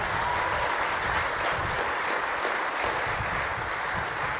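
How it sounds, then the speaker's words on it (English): A crowd at a groundbreaking ceremony for a new Bees ballpark breaks into sustained applause: loud, dense, even clapping that fills the whole stretch without letup. "Please give her a round of applause for this."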